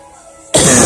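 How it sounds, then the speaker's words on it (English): A single sharp, close cough bursts out after a near-silent pause, loud and harsh with a throaty rasp, from a person who has a lingering cough. "I might have this cough for 2 weeks."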